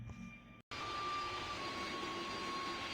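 A commercial airliner jet engine in the Roblox flight game PTFS, a steady whining roar with a sustained high tone, cut by a brief silent gap near the start before resuming.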